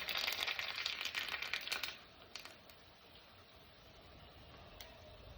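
Mustard seeds pop in hot oil for a brief, faint burst of rapid crackling that dies away into near silence.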